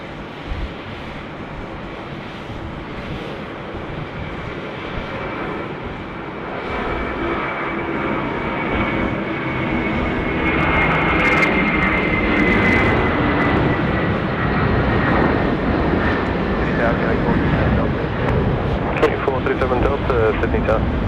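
A Qantas airliner lands on runway 34 left at Sydney Airport, its engine roar building gradually from a distance into a loud, sustained rush, while radio voices talk over it throughout.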